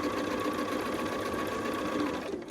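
A sewing machine runs a seam through quilt fabric with a steady, fast, humming whir close by, continuous from start to end and fading slightly at the finish.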